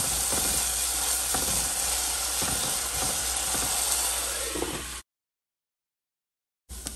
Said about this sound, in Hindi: इसी तरह ऐसे थोड़े देर फ्राई करेंगे, फिर थोड़ी देर ढक के आलू को इस तरह से अच्छे से कुक करेंगे